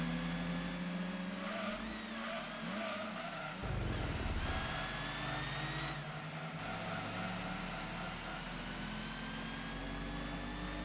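A Chevrolet Camaro engine in Gran Turismo 2 Simulation Mode revs high with a whiny, blender-like buzz, its pitch climbing and dropping through gear changes, loud and continuous with a brief rough burst partway through.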